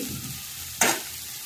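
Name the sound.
ginger and onion sizzling as they fry in a pan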